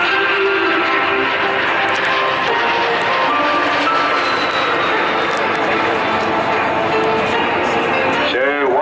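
A MiG-15 jet flies a display at the Bournemouth Air Festival, its steady, loud roaring engine rumble sustained throughout with a rising whine near the end, heard beneath continuous commentary.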